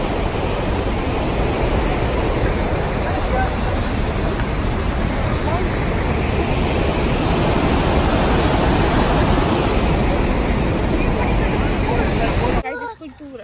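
Waterfall on a hike near Spokane, Washington, a loud, dense, unbroken roar of rushing water filling the whole clip, close by, before a sudden cutoff at the end.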